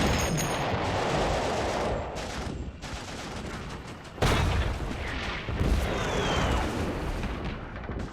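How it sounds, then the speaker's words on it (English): Turkish troops fire down from steep slopes onto Allied soldiers landed on narrow World War I beaches: dense, rolling bursts of rifle and artillery fire with heavy booms, loud and continuous, briefly dropping before erupting again. "From high on the steep slopes, the Turks fire on them with impunity."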